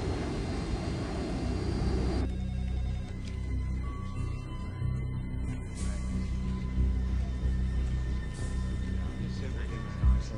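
A jet airliner climbs in flight as a movie sound effect, a steady broad engine roar with a low rumble, joined after a couple of seconds by faint tonal whines and hums that hold at an even level.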